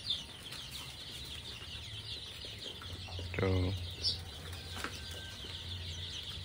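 Local chickens on a poultry farm of about 300 birds, with soft clucking and a brief rising call, some wing flapping and a faint voice over low background noise.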